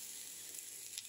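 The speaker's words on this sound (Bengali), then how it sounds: "এখন চালগুলোকে একটুখানি ভাজা ভাজা করে নেব" Soaked rice frying in ghee with bay leaf and small cardamom gives a soft, steady, faint sizzle close by, with no voices.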